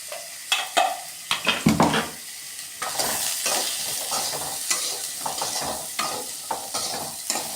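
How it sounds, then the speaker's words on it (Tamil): Small coconut pieces fry in a pan for cauliflower curry, with a series of close scraping stirs up front giving way to a continuous bright sizzle punctuated by occasional spatula taps, no voices. "அடுத்தது தேங்காய், குட்டி குட்டியாக தேங்காய். இதெல்லாம் வறுக்கிறோம்."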